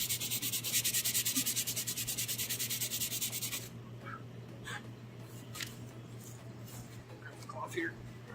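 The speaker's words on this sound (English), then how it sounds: "I'm gonna start to sand." Sandpaper rubbing over a plastic clone trooper helmet: rapid, rhythmic back-and-forth scraping strokes for several seconds, then quieter handling noises and light taps.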